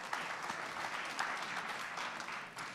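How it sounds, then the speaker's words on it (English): Audience applause at a tech summit, an even patter of clapping from a crowd heard quietly and somewhat distant, steady for a few seconds. "Give a round of applause for yourself as well"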